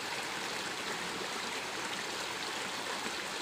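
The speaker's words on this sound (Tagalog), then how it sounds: "Maingay yung tubig." A noisy stream of flowing water rushes steadily and evenly nearby, an unbroken broad wash of sound with no voices over it.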